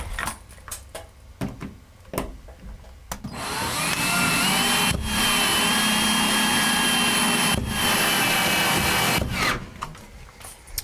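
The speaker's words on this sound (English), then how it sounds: "I'm going to attach this L bracket right into the stud to hold that shelf in place" A 3-inch wood screw is driven through an L bracket into a wall stud with a power driver, a sustained whirring run of several seconds between short knocks and handling clatter.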